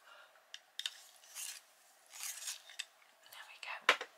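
A small sharpener shaving a colouring pencil, heard as short close scraping, rasping bursts that come in several quick runs of twisting.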